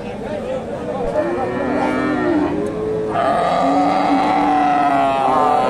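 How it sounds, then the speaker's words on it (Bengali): A large crossbred cow at a busy cattle market in Bogura lows several times in long moos, close and loud, over crowd murmur and talk. "বেশ বড় সড়ো গাভী।"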